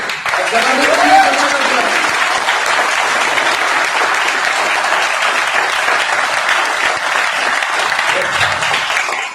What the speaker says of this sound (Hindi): उससे भी ज्यादा तालियों के हकदार है योगेश जी